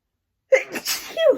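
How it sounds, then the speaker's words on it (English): After a moment of silence, a single loud, close sneeze bursts out, followed by a brief breathy exhale. "oh, I gotta sneeze"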